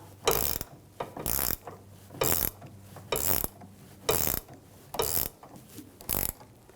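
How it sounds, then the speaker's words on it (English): A 15mm ratchet wrench turning the nut on a sway bar link of a 2006-2010 BMW 550i: seven quick, close bursts of rapid clicking, evenly spaced and separated by short pauses. "There we go, 15mm ratchet wrench."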